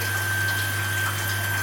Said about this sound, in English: Now water is flowing through the pipe directly connected to the pump outlet